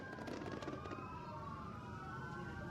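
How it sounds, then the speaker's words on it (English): Police motorcycle sirens wail at a police highway patrol motorcycle drill show, with several overlapping rising and falling tones over a crowd murmur. They are moderately distant and fairly faint. "Lights and sirens blaring."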